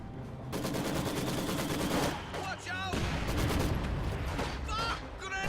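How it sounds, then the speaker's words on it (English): Rifle grenades fired in the Company of Heroes video game amid a dense, continuous battle of rapid gunfire and booms, loud throughout, with a voice speaking over it. "More rifle grenade spam."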